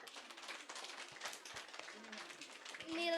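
Applause from a school audience for a boy presenting his book, a dense patter of many hands clapping at moderate volume, with voices mixed in and talk resuming at the end.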